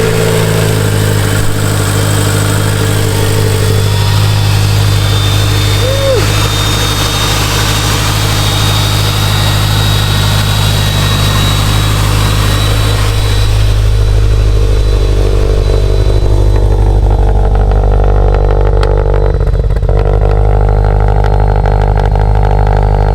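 A Subaru STI engine idles steadily after two months of sitting, a loud continuous low rumble that holds throughout with no talking.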